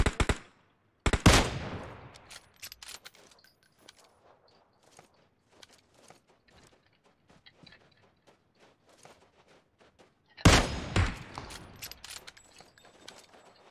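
Video game gunfire cracks out in loud bursts near the start and again toward the end, with sparse smaller clicks and taps scattered through the quieter stretch between.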